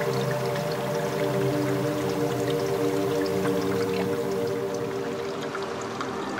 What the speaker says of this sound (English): Water draining out of these rock pools